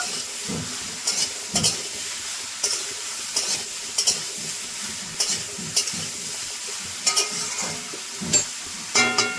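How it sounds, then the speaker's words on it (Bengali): Bottle gourd (lau) pieces are stirred with spices in a hot pan, giving soft sizzling under repeated scraping and clanking strokes of a utensil against the pan at a fairly regular rhythm. "মশলার সঙ্গে লাউটা সুন্দর মিশিয়ে নেব।"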